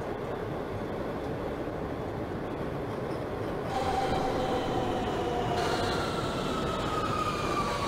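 A Brooklyn-bound J local subway train runs in the OpenBVE train simulator, giving a steady rumble of wheels and motors with a thin wheel squeal that rises partway through and holds to the end.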